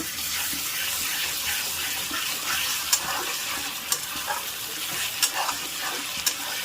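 Grated tomatoes with turmeric powder fry in a pan for jackfruit curry, a steady close sizzle with a few sharp scraping clicks of a spoon stirring them, no talk.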